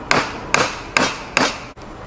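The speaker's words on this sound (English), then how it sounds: "And I just hammer." A hammer drives a nail into wood with four sharp, evenly spaced strikes, each one a loud close knock that rings briefly. No one speaks.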